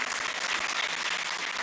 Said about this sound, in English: A big round of applause for Madam.